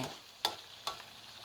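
Pork rib bones frying in hot oil in a Thai home kitchen, a steady soft sizzle broken by two sharp spattering pops.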